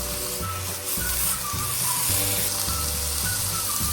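Carrots and grated nuts fry in oil for carrot halwa, a steady close sizzle and hiss running under low background music.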